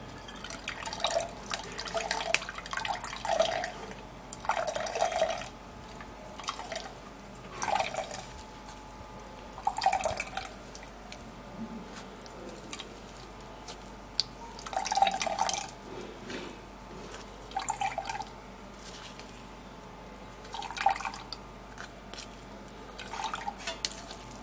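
Cabbage juice drips through a sieve into a cup, producing repeated soft drops at irregular intervals over a quiet, steady background, close but faint.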